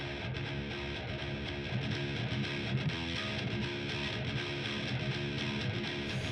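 Heavily distorted metal rhythm guitar mix shaped with a smile-curve EQ for weight and top end, a dense, loud wall of fast palm-muted chugging riffs playing continuously with no voices.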